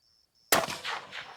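A single sharp rifle shot cracks loudly out of near silence at an outdoor precision rifle practice, followed by a fainter delayed ring and echo as the bullet strikes a distant steel target.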